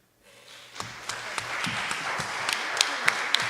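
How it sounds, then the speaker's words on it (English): An audience at a township board of education meeting breaks into applause after a public comment, the clapping building quickly and then sustaining as a dense, steady patter with a few sharper individual claps. "I'm clapping."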